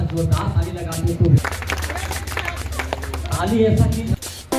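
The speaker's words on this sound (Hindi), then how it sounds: "थोड़ा सा जोरदार ताली लगाते तो" A burst of clapping from an audience at an International Day of Persons with Disabilities ceremony in Barun block, rising between stretches of someone talking over a loud, echoing PA system.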